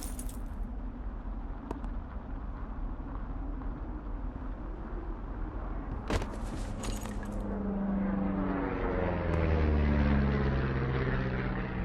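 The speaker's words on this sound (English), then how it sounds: "You see that plane?" Airplane passing overhead in the video game Firewatch, a propeller drone that swells louder and sweeps downward in pitch as it nears and moves by, with an outdoor ambience beneath.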